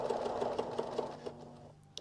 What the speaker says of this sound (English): So I'm going to sew about halfway through.